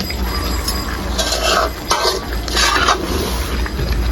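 Fried potatoes being stirred into a pangas fish curry in a pan, with a utensil scraping and clinking against the metal over a steady background sizzle.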